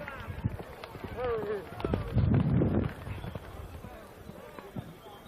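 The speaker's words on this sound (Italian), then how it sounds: "Adesso è la volta di Murri Mattia col cavallo Ali" Hooves drum at a gallop during a village horse race in Isili, Sardinia, rising as the horse passes close and then fading, while people talk and shout in the background.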